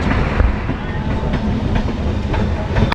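The Ma Tara Express passenger train rolls over the Ganges bridge near Naihati, a loud, close rumble from inside the coach with rhythmic rattling wheel clacks throughout.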